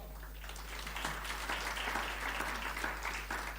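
A crowd claps to welcome a board chair at a Kenya Power event, a moderate, steady patter of many hands at a distance with a low hum underneath.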